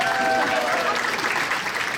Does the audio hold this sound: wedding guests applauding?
yes